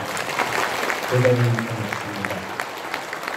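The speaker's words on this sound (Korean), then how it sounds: "이 자리에 계신 여러분 모두에게도 스스로 박수 한번 부탁드리겠습니다" Audience applause at a book launch event marking the 100th anniversary of President Park Chung-hee's birth, a steady wash of clapping throughout with a voice speaking briefly over it near the middle.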